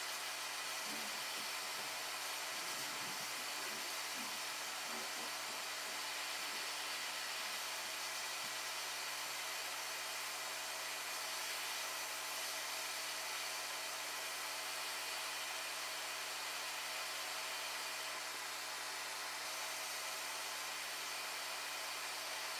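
A hot air rework station set to 450 °C at half airflow blows onto a Nintendo Switch Lite circuit board, producing a steady, even airy hiss with a low hum that holds constant throughout.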